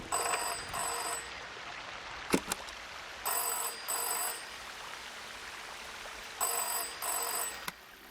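A telephone rings in the video game Season: A Letter to the Future, giving repeated paired trills separated by pauses. Soft rain patters underneath, with a couple of sharp ticks between rings.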